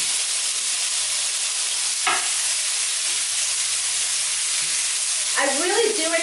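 Tomato dropping into a hot frying pan with cauliflower rice, setting off a steady sizzle and frying hiss. There is a brief clatter near the start and a scraping stir toward the end.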